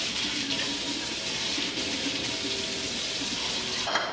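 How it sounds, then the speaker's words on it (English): A kitchen tap runs steadily while strawberries, frisee and baby arugula are rinsed beneath it, a continuous hiss of water that cuts off abruptly near the end. "You're gonna wanna give this a good rinse."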